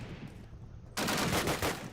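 A sharp gunshot in the Dawnville map of a competitive first-person shooter match, an instant headshot near a choke point, bursting loud after a quiet lead-in and followed by a brief rattle of further shots.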